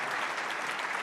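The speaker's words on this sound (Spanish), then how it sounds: "Un aplauso para nuestros panelistas." Audience applause for a panel at a forum on agriculture in Colombia, a dense, steady patter of many hands clapping at once, full and even with no voices over it.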